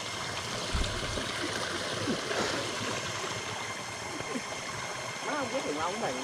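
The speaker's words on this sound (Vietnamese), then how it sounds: "Suối nè. Trong ghê không?" A clear mountain stream flows with a steady, close rushing and gurgling of water, while people talk over it.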